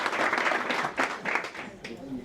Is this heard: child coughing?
no